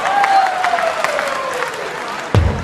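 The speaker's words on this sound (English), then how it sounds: "Smattering of applause for the 140." Brief smattering of crowd applause at a professional darts match after a 140 score, scattered clapping that fades quickly beneath a sustained tone, ending with a sudden thump.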